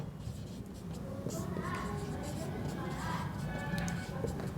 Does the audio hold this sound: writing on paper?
yes